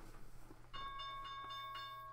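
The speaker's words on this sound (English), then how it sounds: "All right, there's the bell." The stock market opening bell rings as a steady sustained electronic tone with a few rhythmic pulses, faint under room hum and a brief murmur before it starts.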